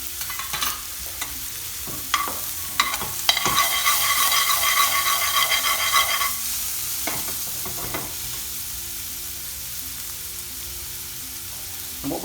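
Onions and garlic fry and get stirred in a pan for mushroom bhaji, an even sizzle with clinking, scraping stirs at intervals, a louder hissing stretch midway, then softer frying with occasional knocks.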